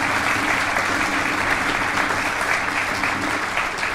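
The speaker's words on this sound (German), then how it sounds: "Vielleicht mal einen kurzen extra Applaus für diese Herren und die Dame." Steady, dense applause from a concert audience honouring members of the Mozarteum Orchestra, sustained and even throughout with no break.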